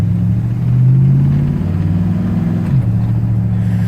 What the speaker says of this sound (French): C'est surtout que l'échappement est un peu bruyant, volontairement